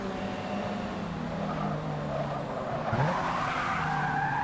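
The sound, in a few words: car tires skidding while drifting on grass in Forza Motorsport 6 video game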